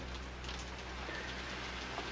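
Steady rainfall makes a soft, even hiss of drops that runs unbroken throughout, quiet and somewhat distant with no voices.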